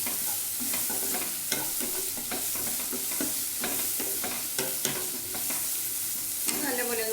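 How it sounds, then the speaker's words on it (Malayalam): Green chillies and onion stirred and sautéed in a pan, a steady close sizzle of frying with repeated scraping stirs throughout. "പച്ചമുളക് ഇട്ട് കൊടുക്കുന്നു."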